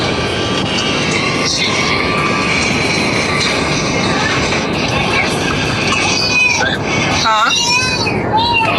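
Loud, steady aircraft roar at Fort Lauderdale Airport fills the whole stretch, rising near the end, with people talking over it.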